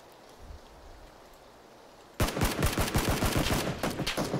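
Rapid burst of gunfire in the battle royale game PUBG, erupting suddenly after a quiet stretch and continuing as a loud, dense string of shots.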